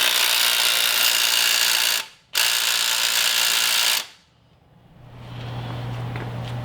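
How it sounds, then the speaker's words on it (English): Sway bar link bolts on a Jeep lift kit install being run down with a power tool: two sustained, loud, close whirring bursts, the first briefly interrupted, then a low idle hum as it stops. "Now we're going to go ahead and tighten everything down on these sway bar links."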